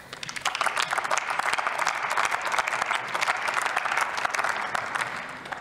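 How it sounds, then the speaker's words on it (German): Sustained applause fills a session of the German Bundestag parliament, a dense, steady wash of many hands clapping at even loudness throughout, with no speech over it. "Applaus"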